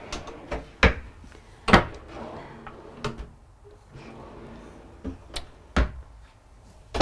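Drawers in the bathroom of a 2023 Newmar Ventana 4369 motorhome open and close, giving several sharp, separate knocks and clacks spaced over several seconds in a quiet room, without talk.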